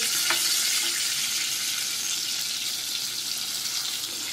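Stuffed pomfret frying in a pan gives a steady, dense hiss of spitting oil, close and even throughout, with one brief clink near the start.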